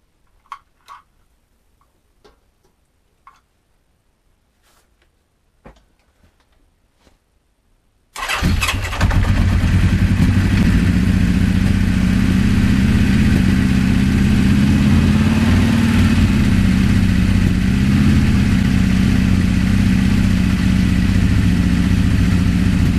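1980 Honda CB650 motorcycle on a cold morning: a few faint clicks and taps, then the engine cranks and catches into a loud, steady idle running on choke for a long stretch.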